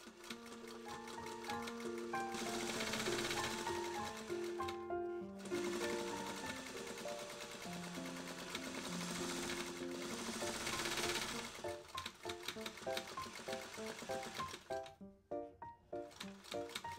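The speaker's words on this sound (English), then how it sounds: "then sew all around it, leaving about 3 inches in the back so that you can flip the hat right side out later" A sewing machine stitches around a fabric bunny winter hat, running in a steady close mechanical whir with brief pauses and rapid needle chatter.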